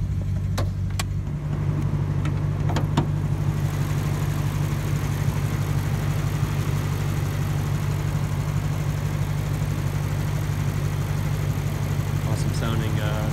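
Lexus IS F V8 idling with the hood open, steady deep rumble close by, a few clicks at the start and a brief voice near the end.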